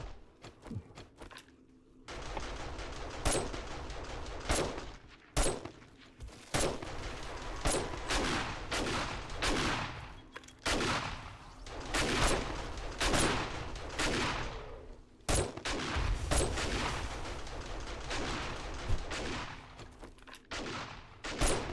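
Rapid gunfire in the zombie survival game 7 Days to Die: dense, loud volleys of shots in bursts with brief gaps, sustained throughout and close up, with no talking.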